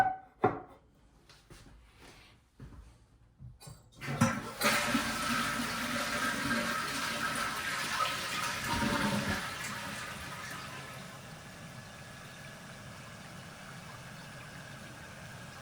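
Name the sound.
toilet fill valve refilling the tank after a flush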